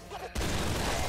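A shotgun blast in the video game Nuclear Throne hits hard and loud after a quiet moment, then rolls into a sustained burst of noisy gunfire and game action.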